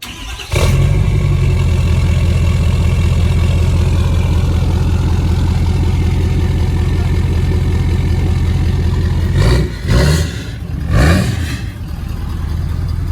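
A tuned Ford F-250/F-350 pickup truck with its muffler deleted rumbles loudly and steadily at idle, deep and throaty, with a couple of brief revs near the end.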